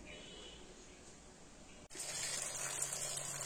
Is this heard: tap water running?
yes